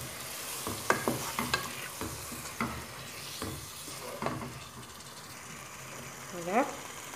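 Garlic and other ingredients sautéing together in a pan for a tomato pasta sauce, with irregular stirring scrapes and clicks over a soft sizzle, close and moderately quiet.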